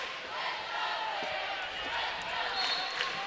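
A high school wrestling crowd at the 2012 Class 6A finals chants in a steady, rolling roar that fills the gym, with no single voice standing out.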